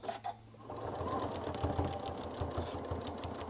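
A sewing machine set to the center needle position stitches across a zipper end and back, with a couple of soft knocks first, then a steady close hum of fast stitching.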